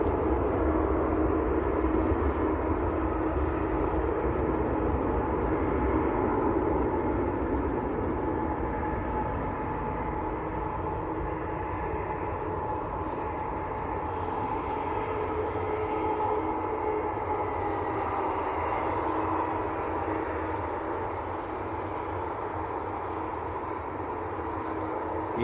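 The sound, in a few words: EgyptAir airliner departing for Cairo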